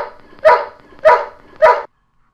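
Three evenly spaced puppy barks, close and loud, each short and yelping, then silence.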